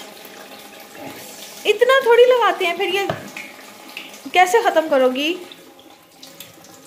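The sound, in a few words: water running from a tap while washing hands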